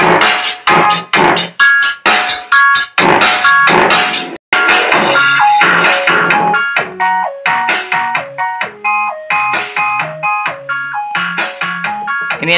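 Music played loudly through a homemade 200-watt amplifier into a bare speaker with no enclosure, a bright repeating melody of rapid tones with a buzzing, rattly edge from the vibrating driver.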